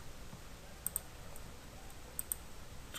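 Faint, crisp clicks of keys on a computer keyboard, two quick pairs of presses like hitting Enter, over a low quiet room hum.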